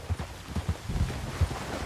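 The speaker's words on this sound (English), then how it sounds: "Get on your horse." Horse hooves clip-clop in a steady, rhythmic gallop through Red Dead Redemption 2, with low thuds repeating close and clear and no talk over them.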